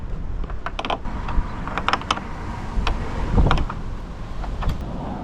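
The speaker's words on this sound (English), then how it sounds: "The last part, just to tighten that up, is with a 13mm spanner." A 13mm spanner tightening the bolt on a motorhome door gas strut, giving a series of close, sharp metallic clicks and creaks in quick irregular bursts over faint background hum.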